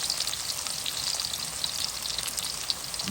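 Pork and vegetables, including carrots, frying in plenty of hot oil for a stir-fried dish, a steady dense crackling sizzle that runs unbroken and close throughout, with no voices.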